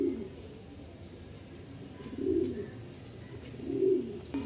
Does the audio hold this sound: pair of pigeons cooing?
yes